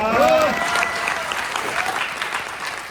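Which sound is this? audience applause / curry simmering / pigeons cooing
audience applause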